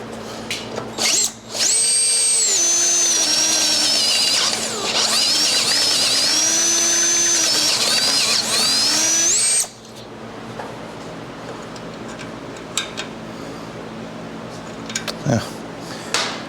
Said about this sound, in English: Might have to bust out the step bit on that one, open that up just a hair more.